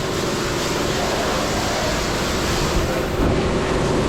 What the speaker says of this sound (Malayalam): ഇത് ഫുള്ള് അവർ വെള്ളം അടിച്ച് മൊത്തം ചെളിയെല്ലാം തെറിക്കും